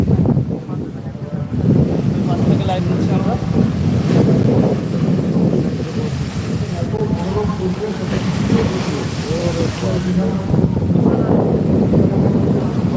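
Rough sea surf at Digha beach pounds and roars under strong gusting wind, a loud continuous wash of breaking waves with wind buffeting the microphone throughout.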